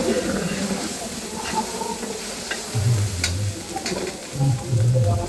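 Water hits sizzling masala for a chicken and potato curry, with hissing and bubbling in bursts and a few stirring clinks over a fairly loud, uneven sizzle.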